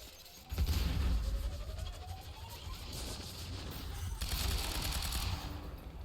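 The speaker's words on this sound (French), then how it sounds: "Tirez sur la cible." Gunfire in the shooter video game Quantum Break: dense automatic bursts with crashing impacts run loud and steady across the whole stretch, with a brief quieter moment at the start.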